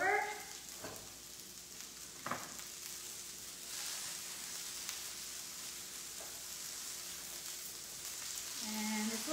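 Okra frying in a pan at home, a steady soft sizzle and crackle running throughout, with a few brief knocks from stirring and a moment of muffled voice near the end.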